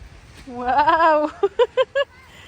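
A goat on a farm in Nepal gives one loud, wavering drawn-out bleat, then four short, sharp bleats in quick succession, close and clear.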